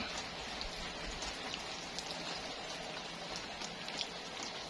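Rain falling at a rural home and vegetable garden, a soft, steady hiss dotted with faint, irregular droplet taps, with no voices.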